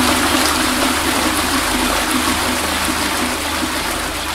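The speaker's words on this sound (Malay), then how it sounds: "semua pam tandas bersebelahan dengan bilik yang sedang dia gunakan berbunyi" Loud, continuous rush of flushing water fills a hospital washroom as several toilets flush at once, a steady roaring gush without pause or voices.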